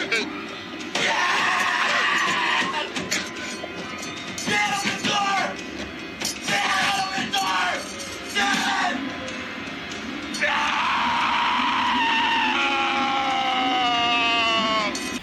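A young man screams in terror as a clawed figure tears its way out of his body, loud strained yells and bellows rising and falling over a roaring, chaotic horror-film soundtrack, with shouting and banging mixed in.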